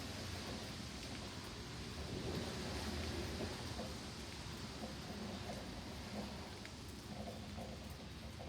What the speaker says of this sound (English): All we get is just plain rain.